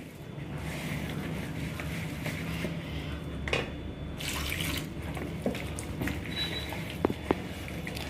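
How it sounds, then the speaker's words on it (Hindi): Water from a bowl is poured into gram flour batter, with running, splashing water and a few drips heard close over a steady background hiss. "तो एक कटोरा पानी बस आप डालिए"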